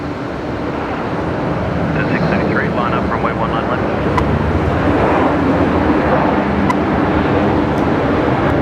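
A Qantas Boeing 737-800 arriving from Wellington at Brisbane Airport at night, its broad jet roar steady and fairly loud throughout, with voices talking over it.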